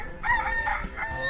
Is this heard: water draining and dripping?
no